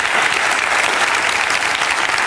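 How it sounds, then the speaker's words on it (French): Studio audience of a French daytime talk show applauding steadily and loudly throughout, a dense continuous wash of clapping with no speech over it. "Applaudissements pour Françoise."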